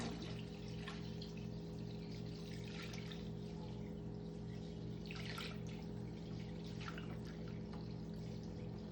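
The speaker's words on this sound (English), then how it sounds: "it's time to add the rest of the water, which is approximately about 2 gallons" Water poured into a batch of ginger, pineapple and pear mead must, a steady continuous stream with soft splashing over a low pump-like hum, heard alone without talk.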